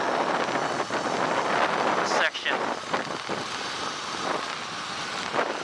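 Wind buffets the microphone in a steady, rough roar on a dirt bike ride along the Mojave Road, with a person talking underneath.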